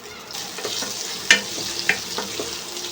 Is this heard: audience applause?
no